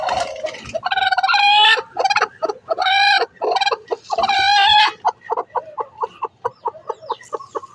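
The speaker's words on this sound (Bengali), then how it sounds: "এখানে আরো একটি মুরগি ডিম পাড়তেছে" Hens in a coop cluck loudly and close up, with drawn-out squawking calls giving way to a quick run of short rhythmic clucks.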